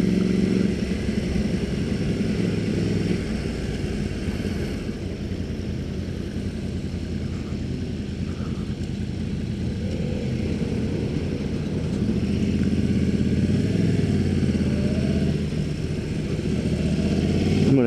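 A liter bike motorcycle engine drones continuously while riding, a steady throaty rumble with a mild rise in revs toward the end, heard up close over constant wind noise.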